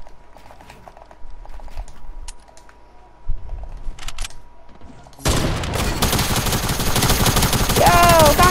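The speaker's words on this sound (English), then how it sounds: "Try to use the SMG on me." Submachine gun fire in a video game 1v1 match, a loud sustained burst of rapid shots starting suddenly after quieter scattered game sounds and continuing to the end.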